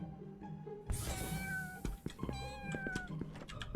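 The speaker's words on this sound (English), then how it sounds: "Tabby does a single meow and goes for me." Several cat meows in a cat-based horror game, with game-like background tones and clicks, a clear mew followed by more meowing over a steady electronic backdrop.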